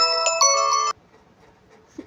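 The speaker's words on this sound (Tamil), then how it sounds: "எங்கள் பெரியம்மா ஃபோன் பண்ணுறாங்க" A mobile phone ringtone plays a bright melodic phrase of repeated tones for under a second before cutting off, close and clear, followed by near silence.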